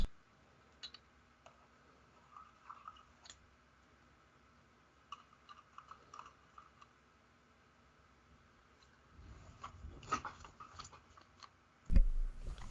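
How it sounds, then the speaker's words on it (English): Soft keyboard typing with scattered light clicks, faint and irregular, in a quiet room with low background noise and no talk. "I'm just going to start typing the sixth chat poll right now"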